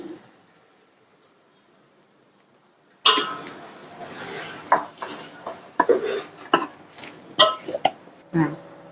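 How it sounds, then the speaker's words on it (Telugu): Chicken haleem with ground lentils and fried onions being stirred and mashed in a pot with a dal masher; after a quiet start, scraping and knocking strokes come irregularly, close and clattery. "ఈ విధంగా మనం పప్పు గుత్తితోటి ఇట్లా తిప్పుతూ ఉండాలండి"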